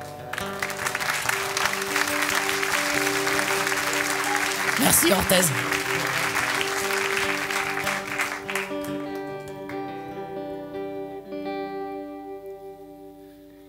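Concert audience in Orthez applauding for the first several seconds, a dense steady wash of clapping under a sustained musical chord, with a voice speaking briefly over it before the clapping fades and the held tones ring on.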